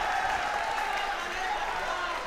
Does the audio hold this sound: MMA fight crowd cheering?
yes